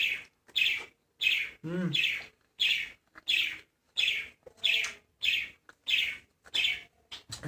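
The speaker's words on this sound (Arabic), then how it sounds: "والله العصفورة ليها صوت" Small bird indoors chirping in a steady series of sharp, evenly spaced tweets, about a dozen calls, fairly faint, with a brief murmur from a person between them.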